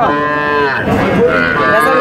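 A Burmese-breed calf at a cattle market moos loudly and close by, two drawn-out, wavering calls back to back with no talking.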